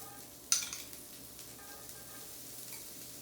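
Chopped shallots dropped into hot clarified butter in a pan over high heat, a soft steady sizzle following a brief clatter as they go in, faint and close.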